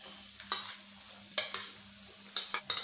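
Three finely chopped medium onions frying in a pan for aloo baingan bharta, with a steady sizzle and a few sharp scraping bursts as a spoon stirs them, close and fairly quiet.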